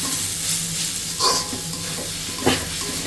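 Onion and green chili frying in a pan with turmeric and salt give off a continuous close sizzle, with two brief louder stirring scrapes partway through.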